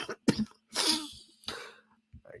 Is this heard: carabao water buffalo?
no